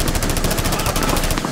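Rapid automatic SMG fire from the video game Rainbow Six Siege, a loud, close burst of evenly spaced shots lasting over a second before stopping.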